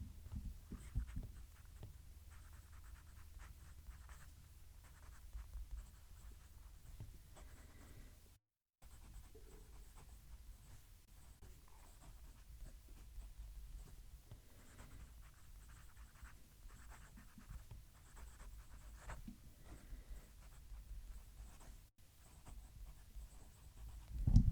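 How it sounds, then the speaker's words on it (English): A Kaigelu 316-series fountain pen nib writes on paper, picked up close as a faint, continuous soft scratching against a low room hum, with no talking. "Let's move the mic and do a writing sample."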